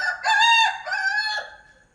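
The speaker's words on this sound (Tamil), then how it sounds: "அருமையாக சேவல் கூவிருச்சு, கோழி கூவிருச்சு" A rooster gives one clear, close crow lasting about a second and a half in the early morning, rising and then trailing off against a quiet background with no talking.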